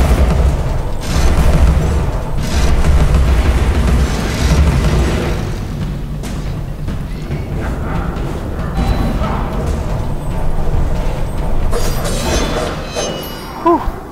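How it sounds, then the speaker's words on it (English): Bombs burst over and over while an enemy hurls them in the video game Alice: Madness Returns, giving loud booming blasts with crashing debris inside a dense, continuous game soundscape. "Is he just gonna throw bombs now?"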